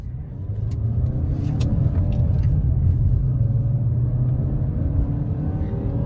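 A 2020 Mazda CX-5 rolls along the road with a steady engine rumble and broad road noise, holding revs at an even level throughout, heard from inside the cabin.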